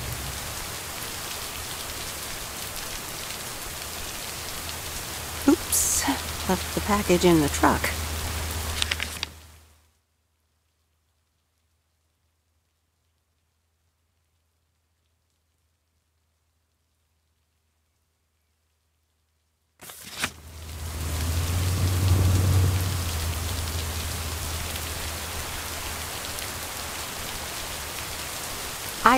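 Steady rain pouring down at a lake, a broad even hiss with a low rumble beneath it, cut off by about ten seconds of total silence before the downpour resumes; a voice speaks briefly early on.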